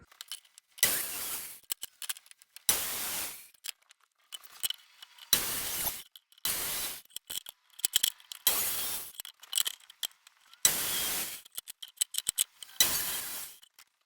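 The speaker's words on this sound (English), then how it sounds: "I'm just holding this square with my hand and then running the saw against it" A pull saw working through wood on a secondhand table, long bright rasping strokes repeated in a steady rhythm with brief pauses and small knocks between them, loud and close.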